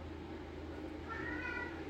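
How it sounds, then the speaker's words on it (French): A cat gives a short, faint meow near the end, with a low steady hum running underneath throughout. "Qu'est-ce qu'il y a, le chat?"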